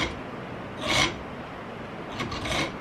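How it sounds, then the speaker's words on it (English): A triangular metal file deepens the slot in a bolt or screw head, two short rasping strokes standing out against a quiet background. "this file is a triangular file set up to deepen these notches in a bolt head or a screw head"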